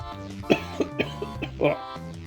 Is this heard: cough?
yes